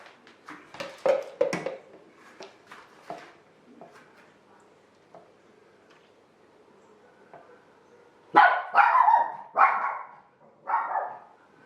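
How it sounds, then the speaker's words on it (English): Indoor dogs bark in bursts, a cluster of sharp barks early on, then scattered quieter yips, and a louder run of barks near the end, fairly close and with no talk over them. "Sorry about the dogs."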